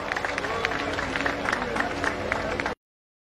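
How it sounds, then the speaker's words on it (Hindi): A crowd at a Delhi BJP protest rally applauds loudly, with dense continuous clapping and cheering that fills the whole stretch before cutting off abruptly. "एक बार जोरदार आदेश जी के लिए तालियां बजा दीजिए"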